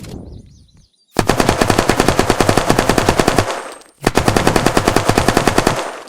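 Automatic gunfire in the shooter game Unturned, fired from a first-person view with a sharpshooter skill. Two long, loud, rapid bursts of evenly spaced shots are split by a brief pause, with a faint electronic tone before the first burst.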